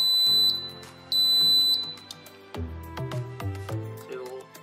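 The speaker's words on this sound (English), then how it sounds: "Double long beep." Two long, steady high-pitched electronic beeps from a Centurion Nova gate receiver during programming, one after the other, followed by quieter low rumbling and clicking in the background.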